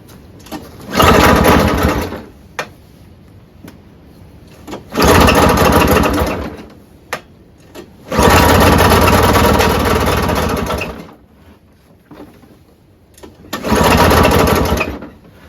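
A flooded Craftsman single-stage snowblower with a 5 HP Tecumseh engine starts and runs loudly four times in short bursts of one to three seconds. Each run dies out, leaving brief quiet gaps with small clicks between attempts.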